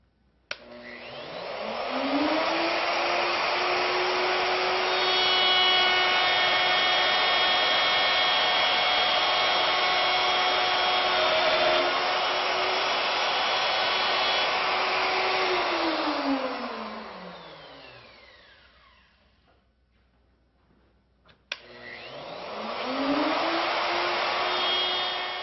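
A router fitted with a dovetail bit cuts wood: the motor spins up to a loud, steady high whine, holds for about fifteen seconds, winds down to near silence, then starts up again.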